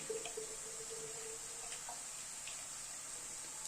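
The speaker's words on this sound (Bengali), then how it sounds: "এই জারটার মধ্যে অল্প একটু জল দিয়ে ধুয়ে নিচ্ছি।" Water run from a tap into a small jar to rinse it, a continuous close splashing flow with a few light clinks and drips over the top, and no talking.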